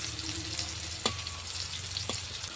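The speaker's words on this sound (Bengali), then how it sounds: "হালকা লাল করে উচ্ছেগুলো ভেজে নেব।" Bitter gourd slices frying in oil with a continuous close sizzle and crackle, broken by a couple of brief clinks of a utensil against the pan.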